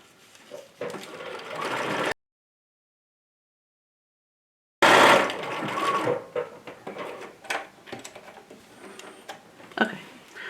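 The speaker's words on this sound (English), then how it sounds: "Okay, so I have this stitched along both sides" A sewing machine stitches a small fabric wallet or wristlet in two close, steady whirring runs, cut off by a stretch of silence in between, with no talking.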